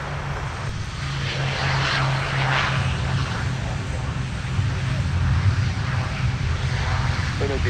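A Boeing 757 jet airliner at Minneapolis–Saint Paul airport gives off a steady, fairly distant engine roar that holds and swells slightly, with a voice faintly in the background.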